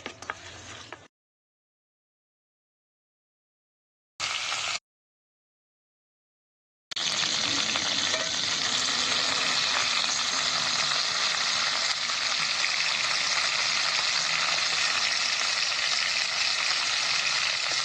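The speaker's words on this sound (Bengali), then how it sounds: "এখন মাছগুলো ভাজা হয়ে গেছে" Fish coated in turmeric and salt fries in hot oil. Brief sizzles are broken by silent gaps, then a loud, steady, close sizzle runs continuously to the end.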